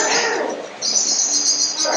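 An agitated bird calls near its nest inside a coquina-walled fort by a drawbridge, giving repeated high, sharp chirps over steady insect-like buzzing and outdoor ambience, with no talking.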